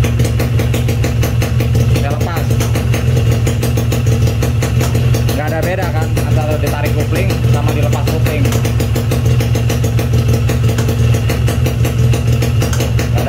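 A Yamaha RX King two-stroke motorcycle engine idles steadily with the clutch pulled in, giving a loud, close, continuous rattling putter throughout.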